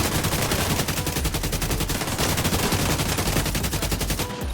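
Continuous automatic gunfire in The Division 2 video game, dense loud rapid shots in an unbroken stream during a one-on-one fight, cutting off abruptly at the end.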